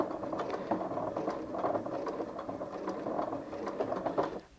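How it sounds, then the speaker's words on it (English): A Janome 5270QDC sewing machine stitching at its slowest speed, giving a steady, quiet mechanical patter of needle strokes with faint ratcheting, heard alone at close range. "even if I put my foot all the way down on the foot control, the machine will only sew at the slowest speed"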